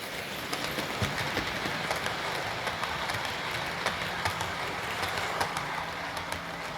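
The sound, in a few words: model railway trains going past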